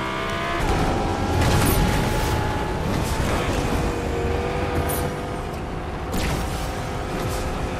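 Engine roar of a car being driven in Fortnite, loud and continuous with rising and falling revs, a few sharp skids and impacts mixed in, and no talking over it.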